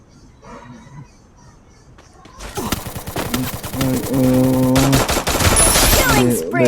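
Rapid gunfire in the mobile battle game Free Fire, a headshot kill: after a quiet stretch, loud sustained automatic bursts and shots erupt and continue densely to the end, layered with game sound effects.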